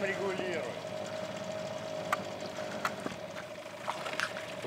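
A motor runs with a steady, whining hum beneath people talking, joined by a few faint knocks and splashes.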